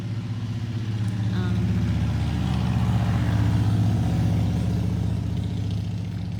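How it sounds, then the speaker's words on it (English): A motorcycle goes by a sunny home garden, its engine a loud, low, rumbling drone that swells slightly in the middle and holds throughout. "Sorry about the motorcycle."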